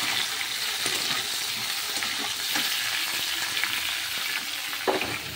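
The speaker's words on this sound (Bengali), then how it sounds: "এখানে ভালো করে ফুলকপি আলুটা একটু ভেজে নেব হালকা লাল লাল করে।" Steamed cauliflower and potato frying with onion in oil left from frying fish, a dense steady sizzle with occasional soft stirring scrapes, close up and without speech.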